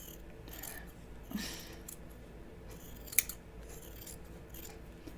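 Scissors snip through sewing fabric during trimming for a Deer and Doe Melilot shirt, with a few quiet cuts and one sharp, close click near the middle. No one speaks.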